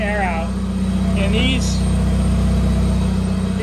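A car engine idles with many computer fans packed into the engine bay pulling air out, giving a steady low drone and whir throughout while a person talks over it.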